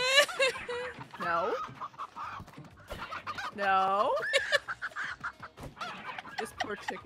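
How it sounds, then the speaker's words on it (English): A chicken clucks and squawks in the video game Moving Out, loud rising cries and chatter mixed with lively talking and laughter from players. "This poor chicken in there."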